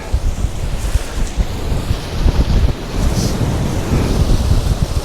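Waves washing onto the beach at Chapman's Pool on the Jurassic Coast, a steady roar of surf mixed with heavy wind buffeting the microphone, continuous and loud with no talking.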